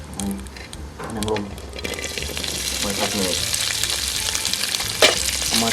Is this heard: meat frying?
yes